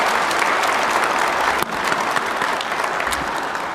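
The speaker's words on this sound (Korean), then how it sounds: "격려 박수 부탁드립니다" A seated audience at a government investment event in Gyeongsangnam-do claps in encouragement. The applause is loud, dense and steady, with no talk over it.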